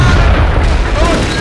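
A tank shell hits and explodes in the Steel Fury tank game, a loud sustained rumbling boom that fills the whole moment with heavy low-end roar and no clear speech.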